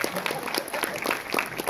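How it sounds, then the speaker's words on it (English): An audience at a fan convention panel gives a short burst of applause, with dense clapping in quick irregular bursts and a voice speaking faintly underneath. "Give her a round of applause"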